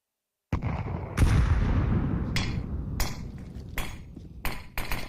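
Rifle shots in a Counter-Strike match on the Mirage map at the Blast Spring Final 2024, a sharp sudden burst followed by several separate cracks spaced irregularly, loud and close with no voices.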